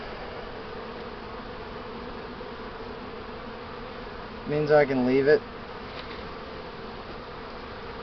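Honey bees buzz steadily and close around frames of new foundation at an open hive, a continuous dense drone throughout, with a brief burst of speech partway through.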